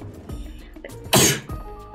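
One sharp, close sneeze bursts out loudly in the middle, with a few softer breathy sounds before and after.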